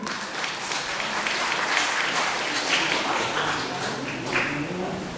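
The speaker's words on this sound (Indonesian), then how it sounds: "tepuk tangan dulu." Clapping from a congregation at a GKS church gathering in Lawonda, Central Sumba, a moderately loud, even patter of many hands that carries on steadily for about five seconds.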